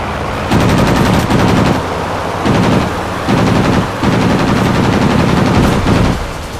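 Aircraft machine guns in World of Warplanes fire in loud sustained bursts, several long rattling volleys separated by brief pauses, with no talk over them.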